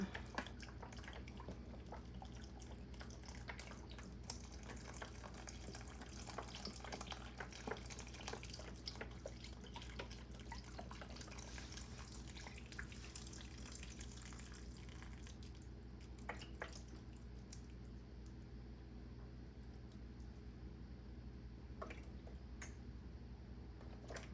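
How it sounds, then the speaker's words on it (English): Chicken broth runs from a container into a soup pot of vegetables, chicken and lentils, a soft continuous splashing pour with faint drips and squishes, quiet and close. "Just put some more chicken broth in there."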